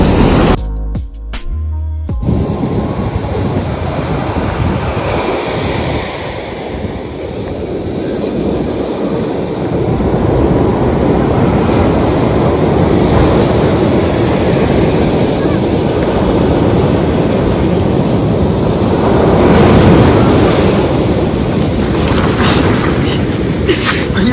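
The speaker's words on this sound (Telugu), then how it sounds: "అలలైతే మస్తు ఘోరంగా స్పీడ్ వచ్చి కొడతా ఉన్నాయి" Ocean waves surge and crash onto a beach at Pondicherry with great speed, a loud continuous roar of surf mixed with heavy wind buffeting the microphone, after a brief handling rustle at the start.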